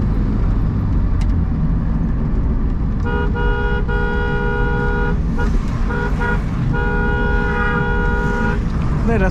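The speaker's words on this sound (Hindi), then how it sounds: "मेरा हॉर्न देने का मकसद भी यही है।" Horn of a 1988 Toyota Corolla honks in several bursts, a couple of longer blasts and shorter toots, loud over steady road and engine noise inside the moving car, with someone talking throughout.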